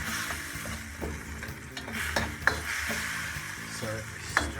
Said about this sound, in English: last stir frying the last of that sugar, corn flour